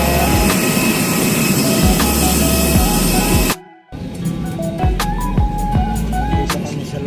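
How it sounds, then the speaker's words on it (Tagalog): Inside an airplane cabin, engines give a steady, close drone with faint tonal whines. The sound briefly cuts out midway, then the hum returns with scattered light clicks and knocks. "Dito kami sa loob ng aeroplano."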